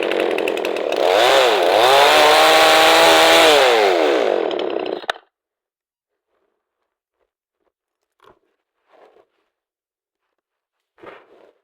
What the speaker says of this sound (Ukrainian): я зараз тут пиляю, кусочок буде падати на цей